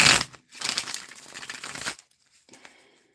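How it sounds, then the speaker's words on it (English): An old, worn tarot deck being shuffled by hand, two quick riffling bursts close up, the second longer, then a faint brief rustle near the end, with no talk. "These cards are so old, you guys. You can tell when I shuffle."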